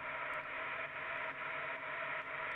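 Basic synthesized noise from a techno noise rack, a steady broadband hiss like radio static that holds evenly throughout with slight pulsing dips, fairly quiet and with no voices.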